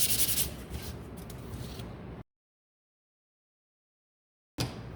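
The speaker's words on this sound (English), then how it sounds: "I'm just gonna come in here just lightly sand." Light sanding of a handmade witch's broom, a dry, steady rubbing and scraping close up for about two seconds. A silent gap follows, then the rubbing briefly resumes.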